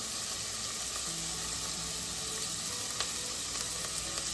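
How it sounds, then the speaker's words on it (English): A steady, hissing bubble of water simmering in a pot for pasta, continuous and close, with faint clicks and no talking. "this is still boiling or trying to boil."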